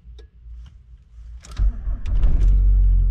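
VW Golf 3 1.9 TDI 90 HP diesel engine starting, with a couple of faint clicks before the starter catches and the engine settles into a loud, rough low idle.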